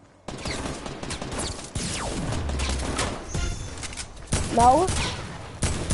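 Gunfire in a shooter video game comes as several sharp bursts and single shots spread through the clip, with a player talking and exclaiming over the action.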